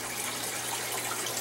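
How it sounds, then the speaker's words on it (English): Water pumped into an aquaponic greenhouse tank in winter, a steady close rushing and gushing stream that runs continuously without pause. "Pump's still going. Still filling up here."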